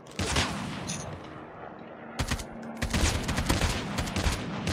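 Rapid automatic gunfire bursts from a multiplayer shooter video game, dense and loud, with a brief lull in the middle before heavy firing resumes.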